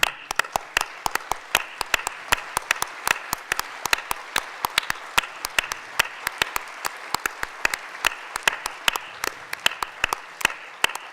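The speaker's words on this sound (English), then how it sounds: "can we stand up and give you a round of applause, please?" Conference audience at a hospice charity event breaks into sustained applause, dense rapid clapping from many hands filling the room steadily for the full stretch without talk.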